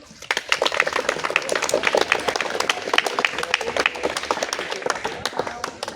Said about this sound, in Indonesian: Semuanya tepuk tangan dulu.